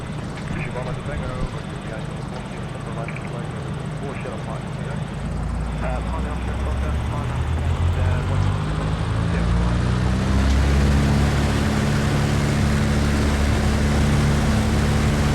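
A light propeller aircraft powers up on the runway for its takeoff run, its engine drone swelling louder and steadier across the clip, with a voice speaking over it.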